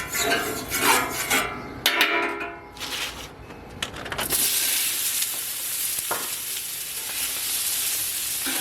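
Meat sizzling in a little oil in a hot pan, a loud, steady, broad hiss that follows some scraping and handling noises and then settles into a continuous fry, with no talk.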